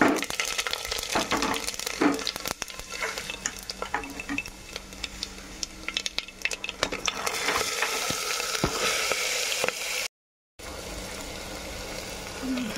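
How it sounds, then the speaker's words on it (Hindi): Oil and spices sizzle and crackle in a pressure cooker as they are stirred, with scraping and bubbling close by and a brief dropout near the end. "इसके लिए मैंने प्रेशर कुकर में ऑयल डाल दिया है और मसाले डाल दिए।"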